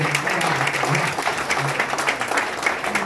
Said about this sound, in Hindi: तालियां बजाओ साहब, एक बार जोरदार बजाओ।